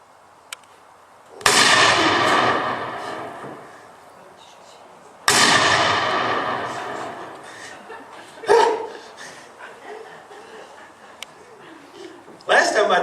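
A deer rifle is fired at a target on a farm: two loud, sharp cracks a few seconds apart, each with a long rolling echo, followed by two smaller bangs.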